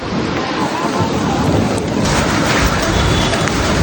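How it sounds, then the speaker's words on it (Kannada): Dense, roaring rain pours continuously, loud and close, with gusty wind noise buffeting the microphone. "ಬರುವಷ್ಟು ಮಳೆ ಅಂತೂ ಫುಲ್ ಜೋರ್ದಾರ್ ಸ್ಟಾರ್ಟ್ ಆಗಿದೆ"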